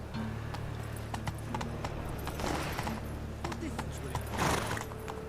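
Hooves clip-clop at a steady gallop, close and continuous, from a horse named Roach in The Witcher 3, with a low game ambience droning underneath and faint voices in places.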